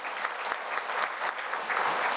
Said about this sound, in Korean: 우리 감사 박수 한번 드렸으면